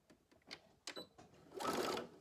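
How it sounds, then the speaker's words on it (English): Sewing machine stitching 100% cotton fabric for a gaiter, a close rapid mechanical whirring that starts and stops in short runs, then settles into a steadier, louder run near the end. "I'm going to stitch a little bit, and then I'm going to do a back stitch"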